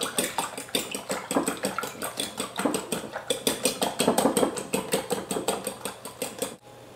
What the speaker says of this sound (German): Schlagt euer Eiweiß jetzt steif.